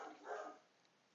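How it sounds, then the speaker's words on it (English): A dog barks a few times in the background of an indoor room, faint and fairly distant, with a short quieter yip near the end. "sorry about the dog too"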